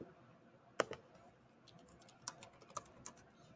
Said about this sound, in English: I'm just going to type my name in